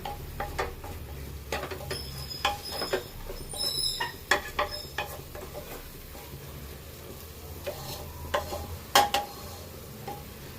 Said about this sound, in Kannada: ಇದಕ್ಕೊಂದು ಮಿಕ್ಸ್ ಕೊಟ್ಬಿಡೋಣ.